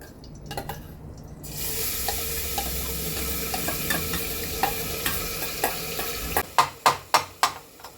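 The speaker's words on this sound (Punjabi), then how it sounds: "ਦੇਸੀ ਘਿਓ ਦੀ ਇੱਕ ਕੜਛੀ ਲੈ ਕੇ ਆਪਾਂ ਥੋੜਾ ਟਾਈਮ ਇਹਨੂੰ ਇਹਦੇ ਵਿੱਚ ਹੀ ਭੁੰਨਾਂਗੇ" Soft sizzle as broken wheat roasts in ghee, with scraping stirs that grow into several sharp, rhythmic clanks of a ladle against the pan.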